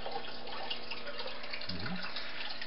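Water pumped up through a pickle-jar aquaculture filter packed with polyester fiber fill gives a faint, steady trickle and wash, with no voices.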